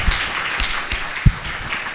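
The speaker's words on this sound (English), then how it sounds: "Warm applause for Elena." Warm applause from an audience at an evening talk series, steady dense clapping from many hands with a few louder nearby claps standing out.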